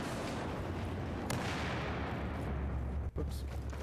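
Gunfire and explosions in Battlefield 4, a loud sustained rumble of shots and blasts with a sharp crack near the end and a brief dropout.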